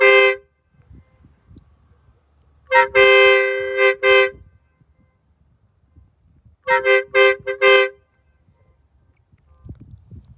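Train horn blown at Carpenters Crossing on the Strasburg Railroad, heard as an opening short blast, a long blast, then several quick staccato toots. The horn is loud and close against faint background noise.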